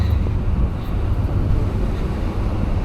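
Strong wind buffets the microphone on the open outer deck of a car ferry from Arsvagen to Mortavika in Norway. The roar is loud and continuous, with a low rumble of the ship and water underneath.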